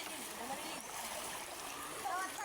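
People bathe in a clear river, their splashing a faint, continuous watery wash with small splatters and a slight swell near the end.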